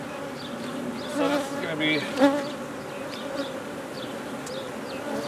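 Honey bees buzzing in a steady, dense hum around brood frames pulled from a mating nuc hive, with a few louder passes near the ear and a voice talking briefly.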